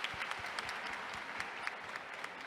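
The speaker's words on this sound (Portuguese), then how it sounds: "palmas para eles, por favor." An audience at a book fair talk in Rio applauds the sign language interpreters with soft, steady clapping from a crowd, heard faint and somewhat distant for a couple of seconds.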